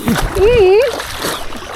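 River water splashes and sloshes nearby while a person talks over it, with a drawn-out vocal sound in the middle.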